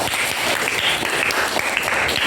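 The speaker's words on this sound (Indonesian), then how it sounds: "Tepuk tangan untuk Ilham" A classroom of students applauds a classmate, Ilham, during a physics and chemistry lesson: dense, steady clapping from many hands, fairly close and even throughout with no voices over it.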